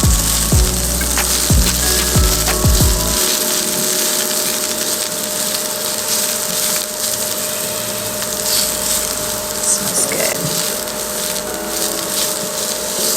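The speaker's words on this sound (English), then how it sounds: "So, now I did say mushroom, but I'm gonna go ahead and just do the green onion. Let's saute that." Green onions sizzle steadily in a hot pan while being sautéed for Korean japchae stir-fry, with a loud, continuous hiss. A few thuds and clanks are heard early on as they go in, and no one talks.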